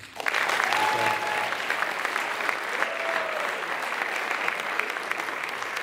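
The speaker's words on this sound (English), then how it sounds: "So let's give them a round of applause." Banquet and awards night crowd applauding, a loud dense burst of clapping that starts abruptly and holds steady for several seconds, with a few faint voices and whistles mixed in.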